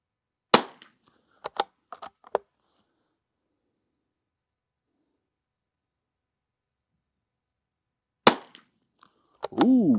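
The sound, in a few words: Ruger American Ranch Rifle firing five shots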